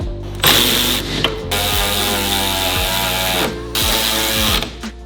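On a Subaru 2.5 RS, a power tool drives the sway bar bolts tight in several loud, whirring bursts separated by short pauses, close to the car, with a pitch that drops toward the end of each run.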